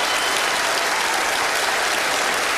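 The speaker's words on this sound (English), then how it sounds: "Give him a big round of applause." Dense, steady audience applause at a magic show, continuous and loud throughout as a volunteer is called up to the stage.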